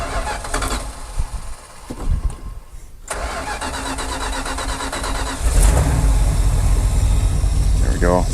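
An abandoned Dodge Power Wagon service truck's engine cranks and catches on its first start of the morning, stuttering and then settling into a steady, loud running rumble close by.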